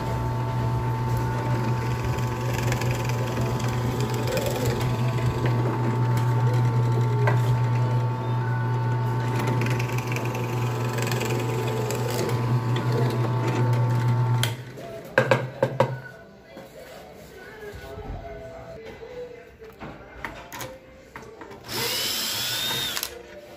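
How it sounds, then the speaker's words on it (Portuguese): A bench drill fitted with an 8mm bit bores holes for a circular saw cart, giving a loud steady motor whine for about fifteen seconds that then stops, followed by a few clunks and a brief spin-up near the end. "tem que desmontar para poder fazer os furos lá na furadeira de bancada"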